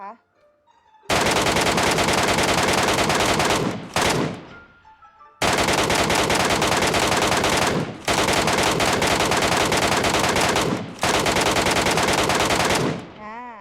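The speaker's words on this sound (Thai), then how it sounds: "เดี๋ยวไปลองทดสอบยิงดูนะคะ ลองยิงดูนะคะว่า มันจะโหลดเร็วได้สักแค่ไหน" Mk14 rifle firing in Metro Royale, loud sustained rapid bursts of gunfire in four long volleys separated by brief pauses, with short reload gaps between them.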